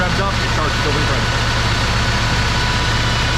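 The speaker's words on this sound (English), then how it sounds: "When I put it in local, the engine revs up, it starts to go ready." A Mayco LS600 concrete pump's engine runs loudly and steadily, a dense, close mechanical drone with a low rumble that holds constant, with a person talking over it.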